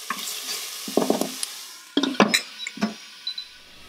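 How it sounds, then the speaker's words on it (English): Chopped onions saute in an Instant Pot on saute mode, a soft steady sizzle broken by close scraping stirs of a spoon against the pot in uneven bursts, no talk. "put the onions, mix that up real good, and then let it saute for about 2 minutes"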